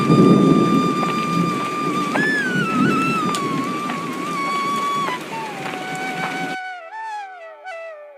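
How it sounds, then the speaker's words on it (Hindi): Steady heavy rain hisses over a farm field throughout alongside a sustained musical tone, ending abruptly into a few seconds of music alone. "खेत में अचानक भारी बारिश होती है"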